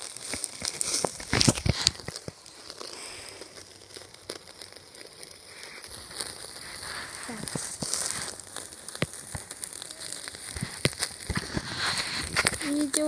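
Campfire flames being topped up by a fisherman while chicken cooks nearby hiss and crackle in irregular bursts of snaps and sputters, with people talking over the fire.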